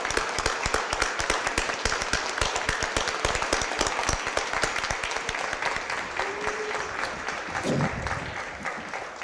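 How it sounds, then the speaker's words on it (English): Sustained applause from a crowd at a Board of Aldermen meeting, dense steady clapping filling the room for several seconds, with a brief low murmur near the end. "Let's give her one more big round of applause."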